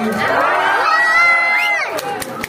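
A crowd at a Miss Gay pageant in Angeles City, Pampanga cheers and shouts, with loud whooping and rising and falling voices close by, and a few sharp claps near the end.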